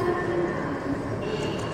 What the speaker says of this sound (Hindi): गुवाहाटी रेलवे स्टेशन में पहुंच गए हम लोग मुदुल भाई और मैं।